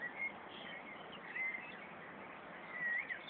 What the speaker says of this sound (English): singing with various tones continuously all the time.